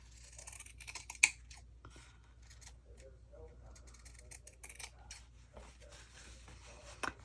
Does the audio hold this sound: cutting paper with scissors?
yes